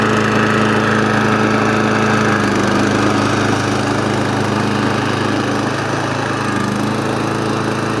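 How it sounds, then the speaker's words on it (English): A cheap RC track lawn mower's small engine runs loud and close, a steady buzzing drone with a constant rumble and slight wavering throughout. "there's a switch right here that you can start the mower up"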